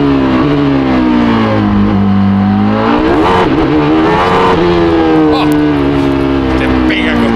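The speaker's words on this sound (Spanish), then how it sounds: "sería interesante escucharlo a él o escuchar el sonido de un Fórmula 1." Benetton Renault Formula 1 car, the 1996 machine driven by Jean Alesi, running at the Termas circuit, its engine a loud, close, sustained high-pitched whine that dips and climbs as revs change, with speech over it.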